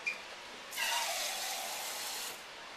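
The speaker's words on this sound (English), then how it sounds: "So I'm going to put in about a half can of water," Water poured from a can into a pot of chili, a soft steady splashing pour of about a second and a half, fairly quiet and heard alone.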